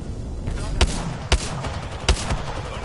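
Video game gunfire on a live PS4 session: three sharp shots at roughly half-second to one-second intervals, loud and close, over a busy game background with a voice talking.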